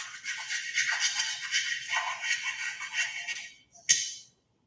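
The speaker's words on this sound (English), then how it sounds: "I used a dollar store cheese grater to shred one whole dollar store candle." A cheap dollar store candle scraped across a dollar store cheese grater, giving a steady run of dry, gritty rasping strokes up close, ending with a brief louder scrape and knock before silence.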